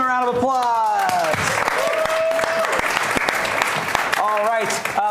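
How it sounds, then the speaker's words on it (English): Loud audience applause and cheering fill a live stage show as directors are welcomed on, with a host's voice calling out over the clapping. "Give them a round of applause."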